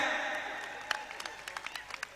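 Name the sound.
audience applause at wrestling event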